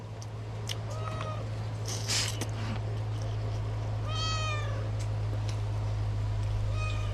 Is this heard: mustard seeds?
no